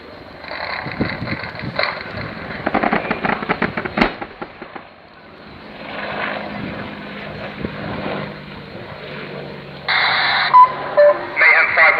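Video game simulation of an Apache gunship's helmet-slaved 30mm gun firing in bursts, heard through radio-filtered audio with short rapid volleys and booms amid cockpit noise.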